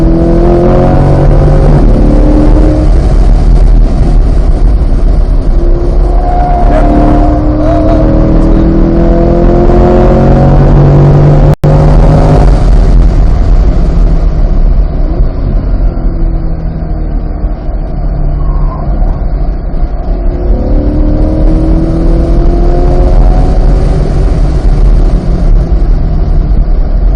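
A 2022 Chevrolet Corvette C8 Z51 laps the Motorsport Ranch race track, its engine droning loud and continuous with rising and falling revs through gear changes, heard from inside the car.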